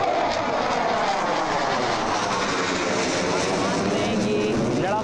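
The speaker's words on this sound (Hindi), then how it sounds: "ये लड़ाकू विमानों की गर्जना बता रही है कि भारत किसी भी तरीके के ऑपरेशन के लिए पूरी तरह तैयार।" Rafale fighter jets roar over an air force exercise on the Ganga Expressway airstrip at Shahjahanpur, a loud, unbroken wash of engine noise that fills the whole stretch, with a voice talking underneath.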